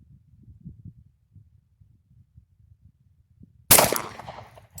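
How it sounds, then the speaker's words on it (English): Single sharp, loud crack of a custom Glock G23 pistol being fired at a range, coming after several seconds of faint low rumble and handling noise, followed by a short decaying tail. "First shot is functioning."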